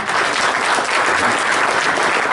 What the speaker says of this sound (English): Hey, guys, give Jeremy a round of applause for his first presentation.